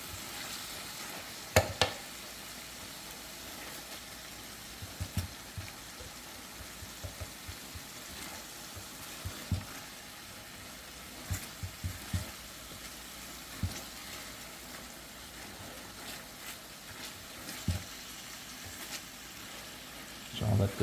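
Stew fish cooking in a pan on a home stove, a faint steady sizzle with occasional clicks and taps of stirring throughout.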